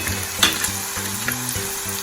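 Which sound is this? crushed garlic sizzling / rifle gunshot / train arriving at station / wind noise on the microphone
crushed garlic sizzling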